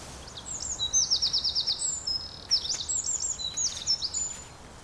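Little ringed plovers on open gravel banks give repeated quick, high chirping calls in rapid bursts, fairly close and clear over a soft steady background hiss.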